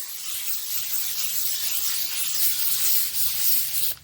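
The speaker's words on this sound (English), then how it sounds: "Scuff paint easy. You just take sandpaper." Sandpaper scuffing painted vehicle bodywork, a steady bright dry rubbing hiss, close and continuous with slight strokes in intensity, no voices.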